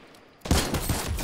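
Rapid gunfire in an online battle-royale shooter game bursts in abruptly after a near-silent start, a loud continuous fusillade of close shots filling the rest of the moment.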